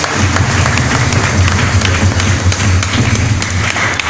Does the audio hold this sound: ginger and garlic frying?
no